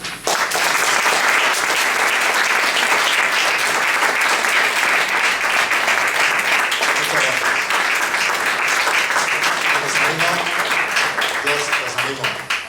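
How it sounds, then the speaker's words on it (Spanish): Sustained, dense applause from an audience at a Valencia event of a Cecilian music association, honouring Luis Garrido; loud continuous clapping that thins slightly near the end, with faint voices underneath. "un aplauso merecido a don Luis Garrido"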